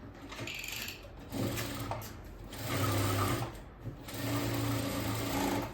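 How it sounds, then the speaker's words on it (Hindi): Sewing machine running thick stitches on a lined blouse, close and steady with short pauses between whirring runs of needle and mechanism. "अभी इस पर मोटी सिलाई चलाऊँगी।"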